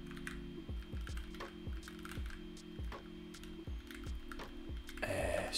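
Rapid, irregular keyboard typing, close and clear, with short bursts of keystrokes and brief pauses, over a steady low hum.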